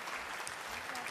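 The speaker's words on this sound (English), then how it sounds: "would you give them a round of applause, please?" Audience applause for a troupe of hula dancers at a live Hawaiian music and dance performance on stage, a steady dense wash of clapping that fills the whole moment without break.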